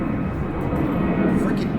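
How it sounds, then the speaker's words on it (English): Airplane passing overhead at a dog training session outdoors, a steady broad low engine roar that fills the whole clip without a break, with faint talk beneath it. "freaking plane noise"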